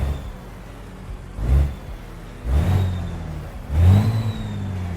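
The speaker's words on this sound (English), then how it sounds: "let's turn on this engine here so you guys can hear this beautiful engine" A car engine revs three times in quick bursts, each rising and falling back to a low idle rumble.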